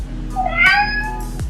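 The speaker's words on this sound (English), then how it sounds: "Okay, here's box of cats." A single drawn-out cat meow plays from an Amazon Echo Dot 4 smart speaker, clear and fairly loud against a low steady hum, with a brief tick at the end.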